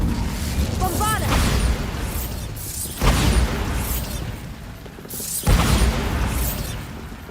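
Bombarda spell blasts in Hogwarts Legacy, three sharp broadband bursts at regular intervals with rumbling tails, loud and close over game music and ambience, with a voice briefly heard.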